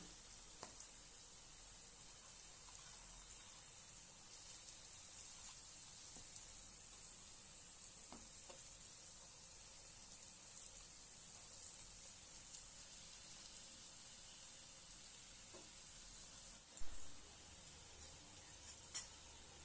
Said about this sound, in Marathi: छानपैकी आपण दोन्ही बाजूने खरपूस असे भाजून घेऊया